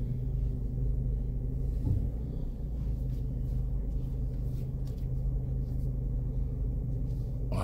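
Car creeping forward at low speed during a parking lesson, a steady low engine rumble from inside the cabin, continuous and muffled with no voices.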